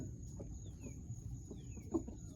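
Broody laying hens cluck softly and sporadically in a coop, a few faint low calls over a quiet background with a steady high hum.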